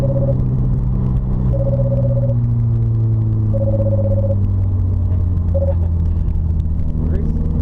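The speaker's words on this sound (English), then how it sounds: "And all the way through here is just accelerating as we go through here." A car accelerates on a race track, a loud, steady engine rumble heard from inside the cabin, its pitch climbing slowly, while short electronic beeps repeat over it and people speak.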